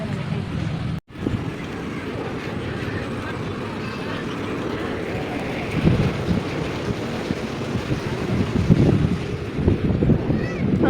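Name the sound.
strong wind at the seaside park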